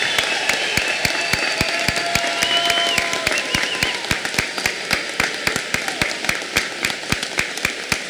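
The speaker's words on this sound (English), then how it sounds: "Please give these students a round of applause for their future service to our country." High school graduation audience applauding students headed into military service: a large crowd's steady clapping fills the space, with sharp regular close claps standing out on top throughout.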